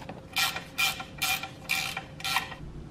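Oil filter being spun on by hand, hand tight, on a BMW E30 325e with the M20 engine: five evenly spaced bursts of scraping, ratchety rubbing, close and moderately loud, with no voices.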